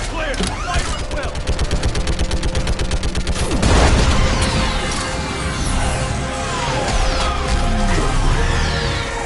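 Sustained automatic gunfire and heavy explosions from a Mass Effect 3 combat battle, with a rapid rattling burst of shots early on, a loud boom near the middle, and continued crackling fire and blasts throughout.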